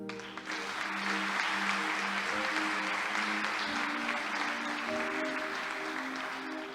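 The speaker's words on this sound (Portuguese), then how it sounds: "Pode aplaudir o Senhor." A church congregation claps for the Lord in steady, full applause, with sustained organ or keyboard tones held underneath the crowd noise.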